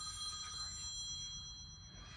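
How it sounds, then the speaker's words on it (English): Telephone ringing in a garage workshop during car repair work on a 1981 Pierre Cardin Evolution 1, a faint electronic ring tone held steadily over low background rumble, somewhat distant, with no speech. "when I answer that annoying phone call, we'll get right back"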